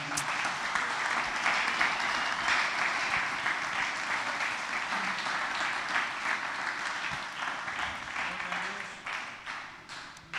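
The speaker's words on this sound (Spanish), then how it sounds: "Vamos a darle un fuerte aplauso a nuestro Padre." Strong applause from a church congregation honoring their pastor, many hands clapping in a thick, continuous wash that lasts around ten seconds, gradually easing toward the end.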